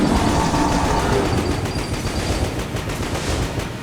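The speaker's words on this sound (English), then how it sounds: "Hope y'all don't mind hearing explosions, because that's just everything Sir Junkin is doing right now." Explosions and gunfire in the video game Enter the Gungeon make a dense, continuous barrage of rapid shots and booming blasts, loud and unbroken, easing only slightly toward the end.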